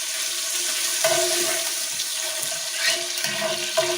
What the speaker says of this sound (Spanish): Ya tengo el aceite caliente, vamos a darle una pequeña sellada a la carne de pollo